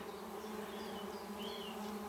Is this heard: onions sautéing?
no